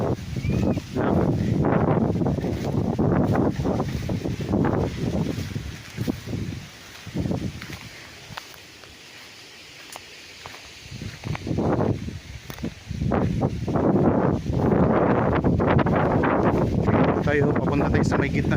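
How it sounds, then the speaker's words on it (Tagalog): Strong wind gusts rush through a bamboo-covered farm lot, buffeting the microphone in rolling surges that ease midway and then return, while a person talks throughout. "Medyo mahangin ngayon."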